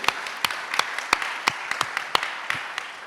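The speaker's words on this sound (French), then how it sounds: "on peut vous applaudir" A small audience claps for a speaker at a leadership conference. The claps are sparse and distinct, with individual sharp hand claps landing in a loose, uneven rhythm close by.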